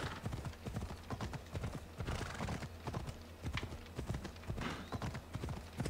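Rhythmic hoofbeats of a horse galloping steadily up a mountain in Assassin's Creed Odyssey, loud and close, with an occasional whinny and other game sounds mixed in.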